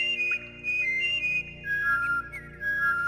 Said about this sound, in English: Holding L2 and pressing triangle or X will make Abe perform whistles